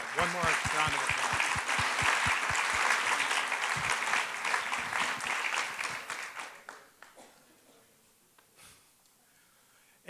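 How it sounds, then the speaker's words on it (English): A crowd at a leadership forum applauds a panel, dense clapping for about six seconds that then thins into scattered claps and fades to near quiet, with a voice briefly heard early on. "one more round of applause"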